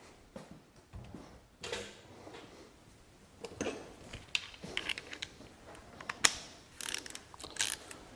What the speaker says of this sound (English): Tighten these down.